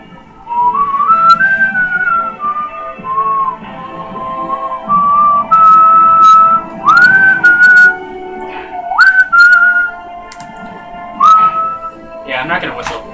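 A person whistles a wandering melody with sliding, held notes in short phrases near the microphone, over quiet background game sound from Final Fantasy X HD Remaster.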